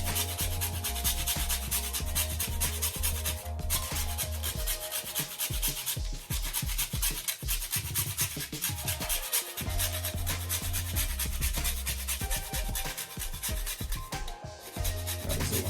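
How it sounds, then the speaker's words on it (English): Whole nutmeg rubbed against the fine side of a hand grater, a continuous rasping scrape in quick back-and-forth strokes, close and steady for the whole stretch, with no voices. "When you grate any nutmeg, guys, you just want to use this side of your grater to grate that nutmeg."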